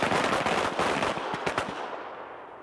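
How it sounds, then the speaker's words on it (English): Pistol shots on a shooting range ring out in a rapid cluster of sharp cracks with echoing tails, fairly loud and close, fading into quiet. "you'll have 3 seconds to draw your weapon, fire 2 shots, and return the weapon to the holster"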